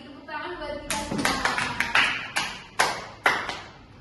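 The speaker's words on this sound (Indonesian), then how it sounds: "Tepuk tangan buat kita semua." Students in a classroom clap in a short burst of sharp, separate claps that slow to a few spaced strikes. A soft voice sits underneath at the start.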